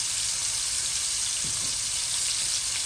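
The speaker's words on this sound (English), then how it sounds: "We're just going to get a good crust on them." Meatballs for Swedish meatballs browning in a hot pan give off a steady, loud broadband sizzle that holds evenly throughout with no speech.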